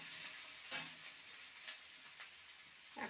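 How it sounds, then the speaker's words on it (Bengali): Chopped garlic from a large, fat bulb sizzles steadily in hot cooking oil, a constant bright frying hiss broken by a few soft stirring knocks, close and alone with no voices. "রসুনটাও আমি তেলে দিয়ে দিলাম"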